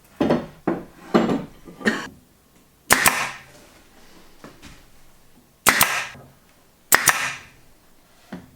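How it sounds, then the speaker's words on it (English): Pneumatic pin nailer firing into a wooden cabinet held with clamps and glue, a set of sharp snapping shots, several in quick pairs and singles, close and loud with quiet gaps between. "I pin nailed it together."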